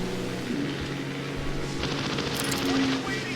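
Machine-gun fire aimed at a bomber in an aerial combat video game, a rattling burst of rapid shots that swells in the second half over a continuous droning engine tone.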